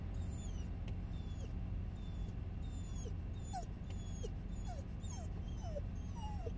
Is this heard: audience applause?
no